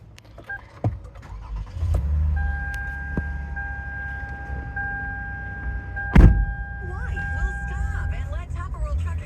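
A 2015 Lexus RX350 with a 3.5 V6 cranks briefly and catches about six seconds in, then settles into a steady idle. Soft chime-like tones and low cabin rumble come before it.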